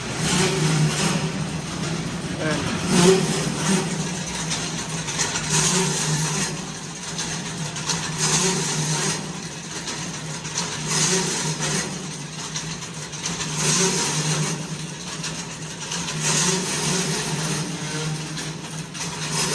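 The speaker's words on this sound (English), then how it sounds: "You can hear the nylon scrapers are dry and are vibrating as they rub." A twin ribbon mixer-blender-cooker with scrape surface agitation, driven by two 7.5 horsepower three-phase motors, runs with its dry nylon scrapers vibrating as they rub: a continuous loud mechanical drone with rough, pulsing scraping over about twenty seconds.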